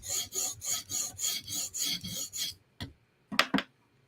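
A knife, a Yojumbo or Yojimbo, is drawn across a stone on a TSProf Kadet guided sharpener: about nine even, rhythmic rasping strokes close up, then a pause and a few short, sharper scrapes.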